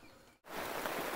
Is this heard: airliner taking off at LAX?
no